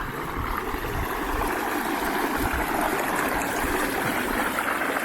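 A mountain stream in the Jones Fork area of Desolation Wilderness rushes steadily nearby, a continuous broad hiss of flowing water with no pauses.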